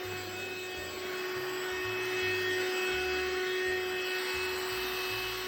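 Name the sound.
Kimitech cordless handheld vacuum cleaner running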